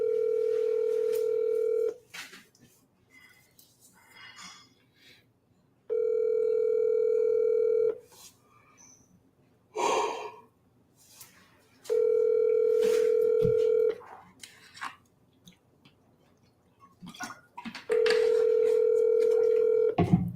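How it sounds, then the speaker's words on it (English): Telephone dial tone sounding in four steady bursts, each about two seconds long, separated by short DTMF keypad beeps and quiet gaps while placing a commercial real estate cold call. "Let me call this guy here."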